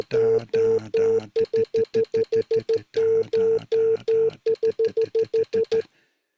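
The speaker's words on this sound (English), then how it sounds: "and that is the rhythm of Morse code" A Morse key taps out Morse code rhythms as a clear, steady beeping tone, sounding a repeated pattern of longer and shorter beeps in quick groups before stopping.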